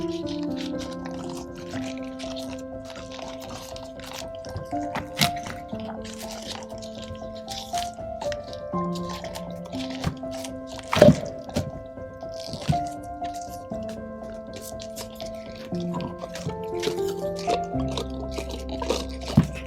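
Cured resin being peeled out of a silicone jar mould, close wet squelching, sticky squishes and soft pops at irregular intervals, fairly quiet with no talk.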